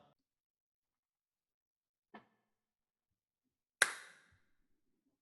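A single sharp hand clap for sound sync cracks out in a quiet room, preceded by a faint short tap, with silence around both.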